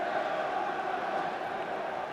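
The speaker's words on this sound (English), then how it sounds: "And just listen to the crowd here at Highbury." A football crowd roars at Highbury stadium in an Arsenal versus Chelsea match: a steady, dense wash of distant voices and cheering holds at an even level, with no distinct individual sounds.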